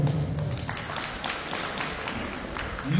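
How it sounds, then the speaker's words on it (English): Audience clapping at a Lions Club installation ceremony for a new president: steady, dense applause from a room full of people, sustained at an even level for the whole few seconds. "give a big applause to him"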